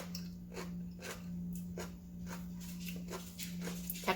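Crunchy pickled daikon radish is bitten and chewed up close, giving a series of quiet, crisp crunches at a fairly regular pace over a low steady hum.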